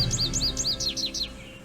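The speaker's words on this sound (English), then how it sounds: "American goldfinch." A recorded American goldfinch call played from a cassette player in a Nancy Drew game, a quick run of about nine bright, high chirps in a steady rhythm, fairly loud and clear, fading out at the end.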